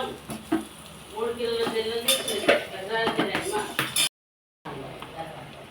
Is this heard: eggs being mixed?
yes